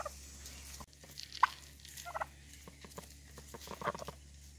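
Farm turkeys kept alongside ducks gobble in faint, scattered bursts at a distance over a low steady hum, with soft patter and small rustles between calls.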